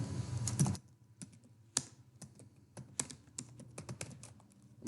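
Typing on a computer keyboard: a quick flurry of keystrokes, then scattered individual clicks and short bursts at an uneven pace, close and fairly quiet in a silent room.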